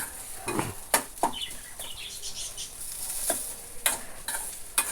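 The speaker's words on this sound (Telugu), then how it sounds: "ఇంకా కొంచెం మనము ఫ్రై చేద్దాం" Sliced bitter gourd (kakarakaya) fries in a pan with a soft continuous sizzle, punctuated by several sharp scrapes and clinks of a spoon stirring against the metal.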